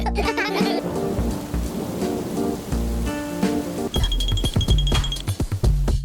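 Animated rainy-day scene with rain and thunder mixed under a tonal musical score, ending in a run of sharper clinking hits.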